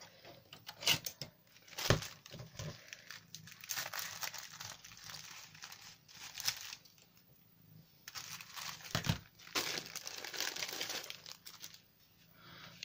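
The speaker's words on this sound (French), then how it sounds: "Je vais prendre une paire de ciseaux." Close-up crinkling and rustling of a parcel's packaging in bursts, with sharp scissor snips and crisp paper handling separated by short quiet pauses.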